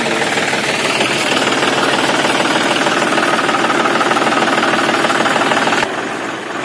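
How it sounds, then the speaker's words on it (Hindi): Tractor engine running steadily on a field being prepared for paddy, a loud continuous rumble with knocking mechanical texture throughout, dropping slightly in level near the end. "ट्रैक्टर लागी गला हो"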